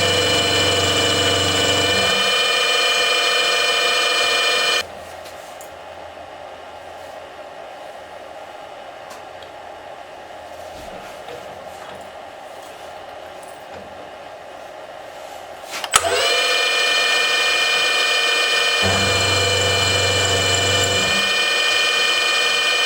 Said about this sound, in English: So now we're over at the milling machine. We'll place a parallel underneath the work. We'll take a quick pass